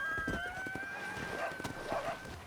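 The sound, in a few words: horse in Red Dead Redemption video game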